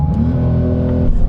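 Porsche sports car launching hard from a standstill, its engine note climbing in a steady loud drone with a slight wheelspin chirp near the end, close and continuous.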